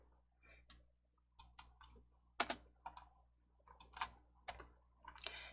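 Fingers type on a computer keyboard while entering text in a Hangul word processor, a close run of crisp key clicks in short irregular bursts with pauses between, no voice.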